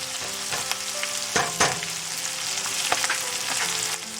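Onions frying in a pan for a bhindi pyaz masala, a steady close sizzle with a few sharper crackles and stirring clatters, no voices.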